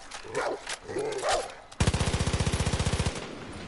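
In the video game Far Cry 5, barking sounds briefly in a few sharp bursts, then a rapid, loud burst of automatic gunfire rattles for over a second, with no speech.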